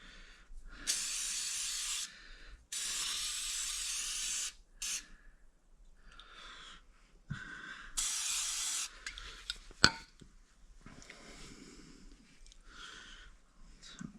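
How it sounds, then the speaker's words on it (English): An aerosol can hisses in several sharp bursts, each lasting a second or two, separated by quiet pauses and small handling noises, while spraying truck cab mounts during floor repair. "Oh, I didn't spray the top of that. Let's spray."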